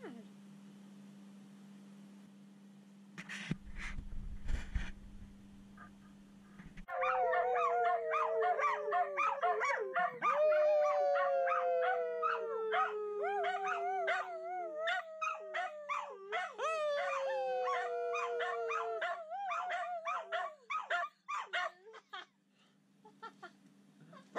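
A dog breaks into sudden, sustained howling, long wavering cries rising and falling in overlapping layers, after a brief clatter and a low steady hum, then fading into short yips and whimpers.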